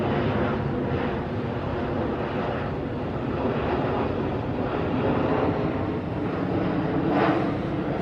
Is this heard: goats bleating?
no